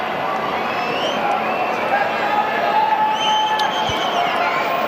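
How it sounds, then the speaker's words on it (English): Cricket crowd in a stadium at an England vs Sri Lanka Champions Trophy match, applauding and murmuring as a steady, broad wash of noise with a commentator talking over it. "They can't wait to stand and applaud."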